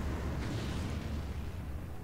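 A nuclear explosion in the video game Starcraft Remastered rumbles as a loud, sustained low roar with a broad crackling wash on top, filling the whole moment without speech.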